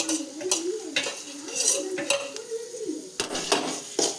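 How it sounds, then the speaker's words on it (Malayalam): Spice powders (coriander, turmeric, chilli, pepper and chicken masala) roasting in coconut oil for chicken curry, with a spatula scraping and clinking against the pan in repeated strokes over a soft sizzle. "മല്ലിപ്പൊടി, മഞ്ഞൾപ്പൊടി, മുളക് പൊടി, കുരുമുളക് പൊടി, ചിക്കൻ മസാലപ്പൊടി എല്ലാം കൂടിയിട്ട് അതിലൊന്ന് മൂപ്പിച്ചെടുക്കുക."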